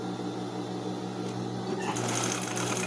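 A sewing machine stitches elastic onto a ballet tutu skirt, running with a steady, fairly quiet mechanical hum and rapid needle chatter that brightens and grows slightly busier toward the end.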